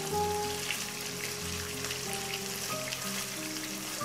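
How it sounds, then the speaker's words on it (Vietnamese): Tofu pieces fry in oil over medium-high heat with a steady, fine sizzle and crackle at moderate volume, heard without talk. "lần lượt mình sẽ cho từng miếng đậu hũ vô chiên"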